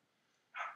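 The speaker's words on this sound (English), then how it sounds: "Sorry about the barking. I'm sure you can hear Eevee." A single short bark from a pet dog named Eevee, faint and off in another room, one quick yap after near silence.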